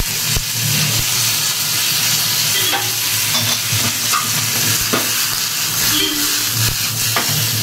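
Green chillies, curry leaves and coriander fry in a hot pan, giving a steady, loud, close sizzle with stirring scrapes and occasional brief spatters throughout, and no talking.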